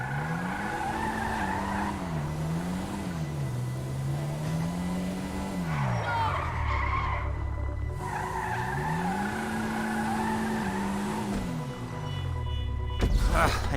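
In GTA V, a truck's engine drones and shifts pitch as it drives, rising and falling with the throttle, and sustained tire skids and squeals play over it. A sharp jolt comes near the end.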